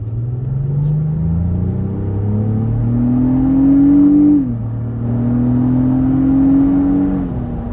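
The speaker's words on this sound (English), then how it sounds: "It's a very nice sound from the exhaust, the engine bay, everything." A 2026 Lexus GX 550 engine and exhaust rev up through the gears in sport mode, a loud rising drone that climbs, drops at a shift, then climbs again.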